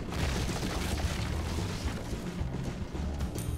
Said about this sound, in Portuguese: Aí, a gente explodiu ali a casa!